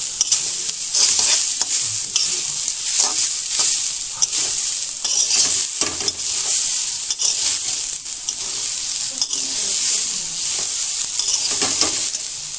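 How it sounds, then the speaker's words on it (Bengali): Grated coconut being lightly fried and stirred in a pan, a steady close sizzle with continuous scraping and stirring throughout, no voices. "নারকেলটা হালকা একটু ভেজে নেবো।"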